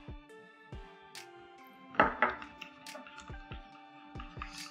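A utensil clinks and scrapes against a bowl as a homemade shampoo mixture with honey is stirred, with irregular light taps and one louder clatter, close and quiet.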